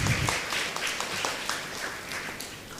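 A church congregation clapping together in thanks for the altar servers, a scattered round of applause with a few distinct, sharper claps standing out, fairly close and fading toward the end.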